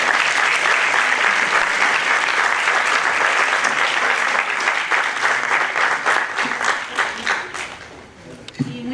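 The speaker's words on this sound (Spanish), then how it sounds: "Un aplauso." Sustained audience applause closes an academic panel discussion on youth, a full, even clatter of many hands that holds for several seconds before thinning and fading toward the end.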